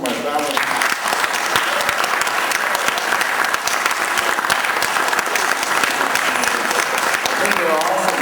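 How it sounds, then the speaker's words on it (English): An audience applauds at the Oahiio Dignity Through the Arts event, giving a sustained round of dense clapping that stays loud and even from start to finish; a voice may sit faintly beneath it. "I'd like to have another round of applause just for my family."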